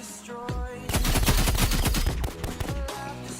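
Rapid automatic gunfire from a weapon in the Roblox game Rivals, a loud dense burst of repeated shots lasting about two seconds and emptying the magazine, with no talking.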